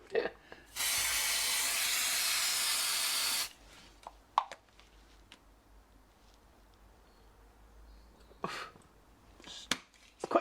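A 1kg fire extinguisher discharges aboard a wide beam narrowboat in one loud, steady hissing spray lasting about three seconds, followed by quieter scattered clicks and handling knocks.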